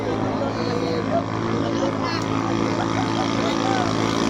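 A racing pump boat engine entered in a boat race drones loudly and steadily throughout, with voices talking faintly underneath.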